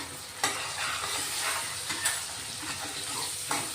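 Pinch of asafoetida dropped into hot oil and stirred, making a steady close sizzle with a few sharp scraping taps from the utensil spaced through it.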